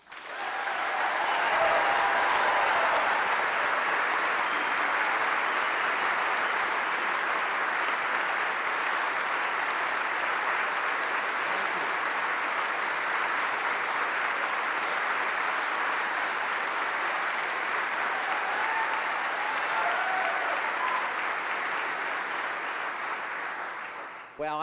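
Sustained audience applause at the Westminster Town Hall Forum, a hall full of steady clapping that swells quickly, holds evenly for over twenty seconds, then fades out as the guest speaker is welcomed.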